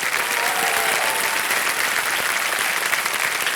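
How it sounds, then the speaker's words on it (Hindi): Loud, steady audience applause fills the studio on the Kaun Banega Crorepati set, dense clapping sustained evenly throughout with no talk over it. "ताली बच जाए"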